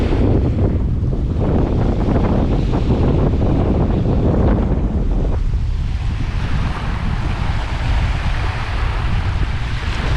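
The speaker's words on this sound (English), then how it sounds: "I'll wait for a little bit of a wave to come in, wash it up to here" Baltic Sea waves wash onto the shore along a forested Estonian coast while strong wind buffets the microphone, a steady loud roar of surf and gusts with no talk.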